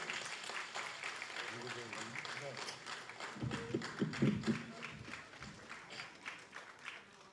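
Audience applause welcomes Vijay Sri Hari on stage at the Mambo first look event, a dense steady patter of clapping running throughout beneath a speaking voice.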